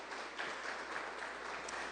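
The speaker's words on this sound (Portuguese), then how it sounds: "E dê uma forte salva de palmas para o Senhor Jesus." Church congregation applauding together at a Friday evening service, a steady, dense wash of many hands clapping that fills the whole moment without pause.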